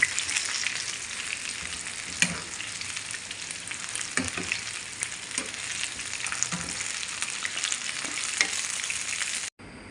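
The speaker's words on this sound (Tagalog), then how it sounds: "pero i-double fry ko nga po sila para talagang kumapit ng kumapit yung coating nila" Steady, loud sizzling and crackling of coated chicken pieces double frying in hot oil, continuous and close, with occasional scrapes and no voices.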